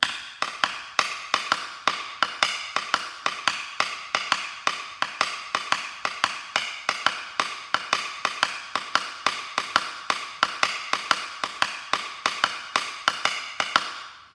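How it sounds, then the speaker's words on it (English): Two hands tap a cata rhythm together with a clave pattern, the stronger hand carrying the busier cata line. A steady, dense run of crisp, close wooden-sounding taps continues without a break, with no voices. "Strong hand is easiest doing the busier pattern, doing the Cata, and this hand's doing the clave."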